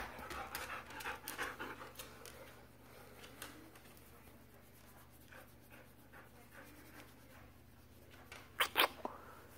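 Husky puppy panting in short, quick breaths indoors, fairly near and soft, with a few sharper noises near the end and no talking.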